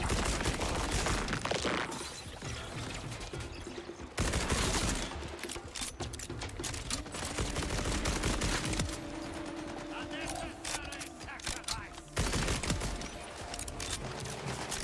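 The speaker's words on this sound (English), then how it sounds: "This gun absolutely shreds when I can hit the shots." Automatic gunfire in Borderlands 4, shooting in rapid sustained bursts with brief gaps, loud and close, mixed with other gunfire and game effects throughout.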